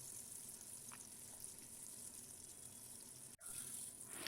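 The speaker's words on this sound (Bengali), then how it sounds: "এবার ঢাকা দিয়ে বেগুনটা ভেজে নিচ্ছি।" Brinjal slices fry in hot oil in a covered pan, giving a steady, even sizzling hiss throughout, briefly broken by a sharp clack near the end.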